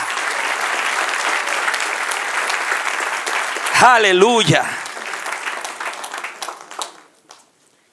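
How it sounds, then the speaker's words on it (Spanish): A church congregation applauds during a sermon, a dense wash of clapping that runs throughout, swells as a voice calls out in praise, then thins and fades away near the end. "Dale un aplauso al Señor."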